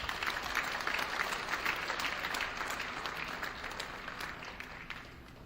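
High school gym crowd at a varsity wrestling meet applauds senior wrestlers, a dense wash of clapping from many people at moderate distance, steady throughout and tapering a little toward the end.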